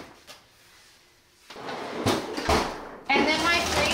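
A snack drawer in a home refrigerator slides and thuds open or closed in a few quick, close knocks and rattles, following a quiet stretch at the start.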